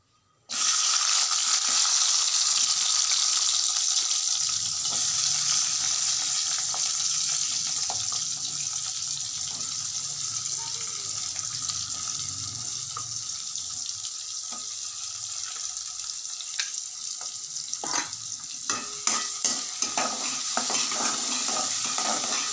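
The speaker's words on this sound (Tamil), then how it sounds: "வெங்காயத்தை நல்லா வதக்கிக்கணும்." Onions and masala sauté in hot oil for an egg and cashew gravy, a continuous close sizzle with stirring scrapes and clinks becoming more frequent toward the end.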